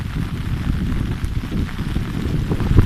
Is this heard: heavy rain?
yes